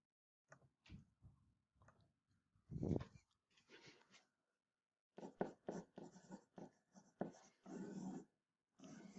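Pen strokes scratch on paper while a probability answer is written out, giving short, intermittent scribbling bursts with pauses between them. The scratching is close and quiet, with no talking.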